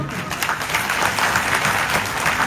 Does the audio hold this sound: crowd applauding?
yes